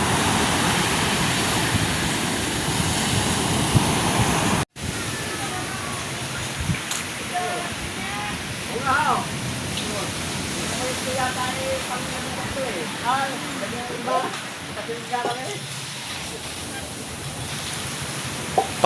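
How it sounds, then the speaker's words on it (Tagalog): Big sea waves roll onto the shore at Bukana, a loud continuous roar of surf with wind buffeting the microphone, while people talk over it throughout. "lalaki ng alon, no?"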